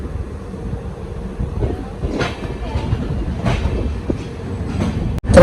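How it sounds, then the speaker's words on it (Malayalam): A Garib Rath Express with LHB coaches on the Kochuveli–Yesvantpur run moves off, giving a steady low rumble with soft rhythmic wheel clatter and occasional metallic squeaks as it gathers pace. "മുന്നോട്ട് പോയിക്കൊണ്ടിരിക്കുന്നു. ഇപ്പോൾ എടുത്തേ ഉള്ളൂ."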